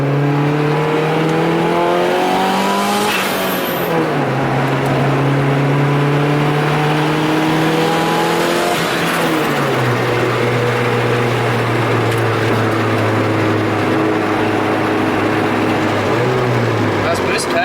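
A turbocharged Honda Civic engine revs hard through rising gear-like sweeps, repeatedly slamming into boost cut with a stuttering drop in pitch, loud and close, with people talking over it.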